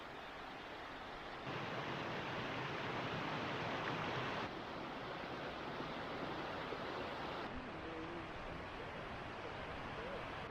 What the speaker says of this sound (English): this is actually probably Jones Run Falls. This is a big waterfall here.